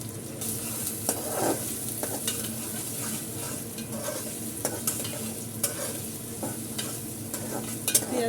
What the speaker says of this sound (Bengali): দিয়ে ভাজা ভাজা করতে থাকবেন